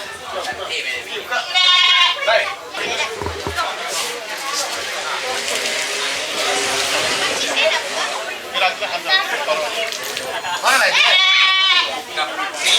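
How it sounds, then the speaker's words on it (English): A goat bleats loudly near the start and again near the end, close by, during a Dashain festival ritual in Nepal, with a crowd chattering and talking throughout. "Looks like the goat already say yes about this."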